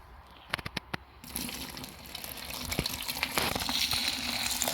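Water is poured to soak beet pulp feed for a competition dressage horse: a steady, close gushing splash that starts after a few short knocks and builds in loudness, with no talking.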